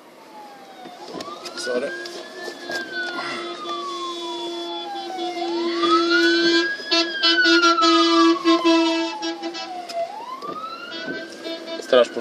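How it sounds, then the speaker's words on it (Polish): A fire engine siren wails in rising and falling sweeps as the truck passes on the road, growing louder toward the middle, with a brief word spoken over it. "Straż pożarna. Trzeba było korytarz zrobić."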